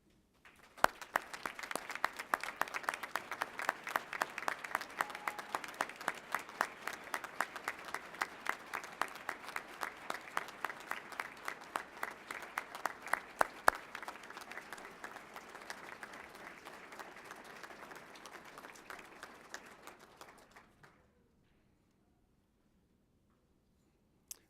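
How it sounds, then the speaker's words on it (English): A large crowd at a Saint Mary's University of Minnesota commencement applauds faculty for about twenty seconds, a dense, even spread of hand claps at a distance in a big hall that stops abruptly into near silence. "so that we may all honor them with our applause"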